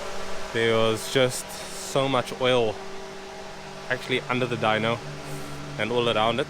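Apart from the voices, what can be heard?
fan running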